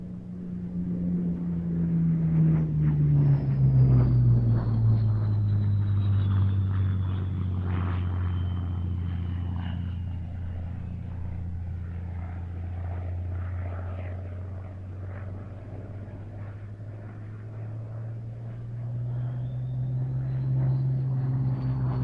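A Supermarine Spitfire Mark 1 flies past at the Duxford flying day, its propeller engine droning as a steady, loud rumble that swells as it passes and fades slowly, with a thin whistle sweeping above the drone.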